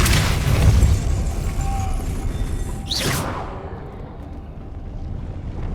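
Depulso repelling spell blasting in Hogwarts Legacy, a loud booming burst with rumble, followed by a sharp swooshing whoosh midway before the noise settles into a lower, quieter wash.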